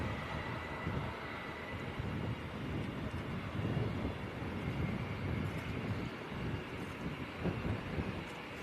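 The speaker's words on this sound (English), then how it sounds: "That's a very nice little jet." Small business jet at Leeds Bradford Airport, a steady broadband engine roar with wind buffeting, continuous and fairly loud, with no talking.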